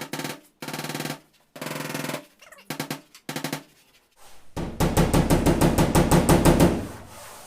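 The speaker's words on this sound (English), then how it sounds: "So we're going to tap that down and get it ready for another coat of filler." A hammer taps down a high ridge of body filler on a car panel during auto body repair. It strikes in several short bursts of close, sharp knocks, then finishes with a faster rattling run of taps.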